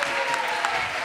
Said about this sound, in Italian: Fatevi un applauso da soli.